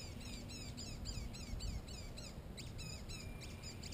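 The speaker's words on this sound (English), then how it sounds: "Yes, yes, yeah, the little nut hatch." Nuthatch calling from a branch near a backyard bird feeder, a series of quick high chirps repeated in bursts over a steady low background hum, fairly faint and distant.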